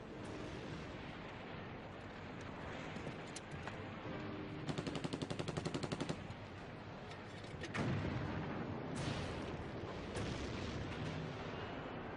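Dense Korean War battle noise with rapid bursts of gunfire and heavy booming tank blasts rolling over a constant roar, loud and chaotic throughout.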